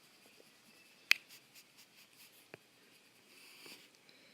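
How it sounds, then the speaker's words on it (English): A pen writing by hand on paper during a trigonometry lesson makes faint, sparse scratches and soft taps, heard alone in a quiet room. "let me just write that more clear"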